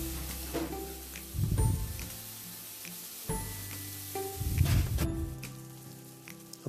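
Chopped onion and tomato masala frying in oil in a pan, a loud crackling sizzle that swells and fades as the mixture is stirred, with scraping sounds between the bursts.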